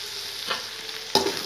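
Chilli chapati frying in a pan gets stirred with a spatula, a steady sizzle broken by two short scraping strokes, close and clear, without speech.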